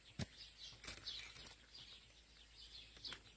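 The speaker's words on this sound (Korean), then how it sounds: "아, 새소리가 장난 아니죠?" On a Hwacheon green onion farm, birds sing outdoors in a morning setting, with faint, scattered chirps and tweets spread across the quiet air, plus a few soft flutters.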